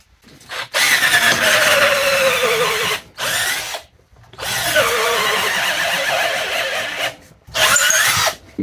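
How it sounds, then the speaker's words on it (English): A cheap electric drill from Amazon fitted with a 1/2-inch bit drills holes, whining loudly and grinding in three long bursts with short silent breaks between them, close up. "let's see how she drills some holes here"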